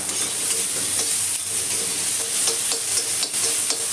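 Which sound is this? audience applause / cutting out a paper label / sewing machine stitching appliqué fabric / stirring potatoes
stirring potatoes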